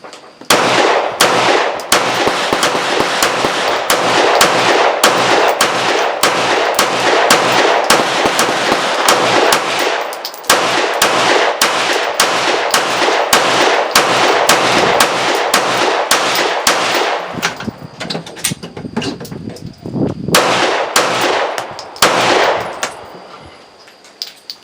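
Rapid gunfire from a Glock 9mm pistol fed by an RWB 31-round extended magazine: loud, sharp shots in quick, steady strings, with one clear pause partway through before the firing resumes and then stops.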